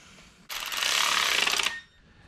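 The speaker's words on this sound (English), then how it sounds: "now we've tightened all the important bolts that are mounting these things" A ratchet wrench clicks rapidly in one continuous burst of just over a second, tightening mounting bolts on a Mini Cooper S R53 engine, close and fairly loud in an otherwise quiet garage.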